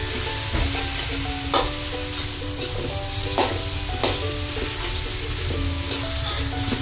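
Chicken pieces sizzling in a hot pan as it gets shaken, a constant close crackle broken by repeated sharp clanks and scrapes of the pan at uneven intervals.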